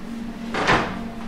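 A closet door or drawer in a honeymoon hotel room at a Riviera Maya resort in Mexico opens or shuts once, a single brief close knock over a steady low room hum.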